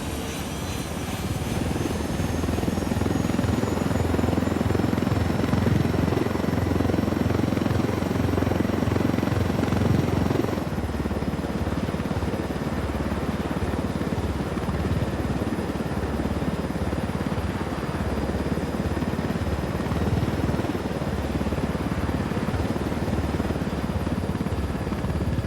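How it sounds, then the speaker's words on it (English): A helicopter engine in the video game Ghost Recon Wildlands drones steadily and loudly for the whole stretch, with a constant rotor rumble and a slight change in tone partway through; no one speaks. "We can leave the chopper here and the rebels will pick it up."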